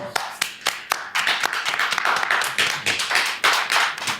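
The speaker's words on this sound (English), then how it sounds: "Give them a nice round of applause." Applause at a community unity forum, starting with a few separate claps and building into denser, uneven clapping from a small nearby group.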